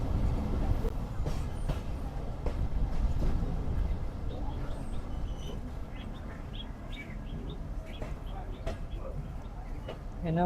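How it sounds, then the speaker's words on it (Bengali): A train rumbles into a railway station steadily with broad low noise and periodic clanks, while birds chirp faintly and voices murmur in the background. "সকাল নয়টা ত্রিশ মিনিটে আমাদের ট্রেন প্রবেশ করছে নিজামপুর রেলওয়ে স্টেশনে"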